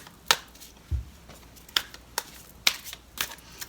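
Tarot cards are shuffled in a few quick riffling bursts, crisp and close, separated by short pauses.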